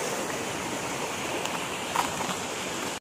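Rushing water at Bulo Falls, a steady broadband roar of falling water that stays constant and fairly close throughout, heard alone without voices.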